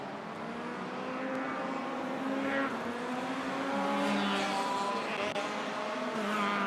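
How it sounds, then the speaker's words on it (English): Touring race cars at a Malaysia Championship Series race revving their engines nearby, a dense overlapping drone of rising and falling engine tones with no talking. "And I can hear the cars revving up."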